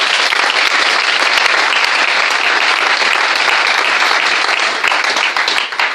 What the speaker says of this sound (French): Est-ce que nous pouvons applaudir le Seigneur?